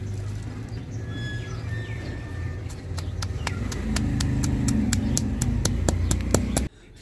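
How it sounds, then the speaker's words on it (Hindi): Green chillies being pounded, a series of sharp regular knocks building in the second half over low background noise, ending abruptly. "अब हम सब्ज़ मिर्चों को कूट लेंगे।"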